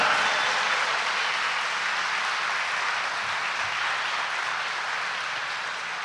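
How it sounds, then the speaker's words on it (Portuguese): Steady applause from a sizable church congregation during Mass, a dense wash of clapping that holds at an even level for several seconds with no voices. "Uma salva de palmas para o peregrino."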